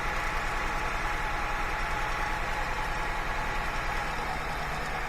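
A Honda Accord engine with misfire trouble idles steadily at close range with a continuous, even drone and no voices.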